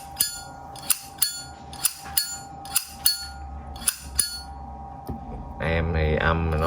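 Vintage Zippo lighter lid snapping open and shut again and again, about a dozen sharp metallic clicks in uneven rhythm, close and clear; a voice starts talking near the end.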